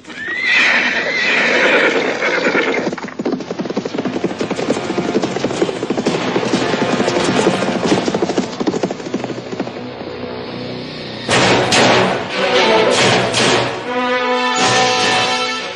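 Horses gallop hard with rapid clip-clop hoofbeats and repeated loud neighs and whinnies, a sound-effect cue in an Indonesian radio drama, continuous and close with no talking over it.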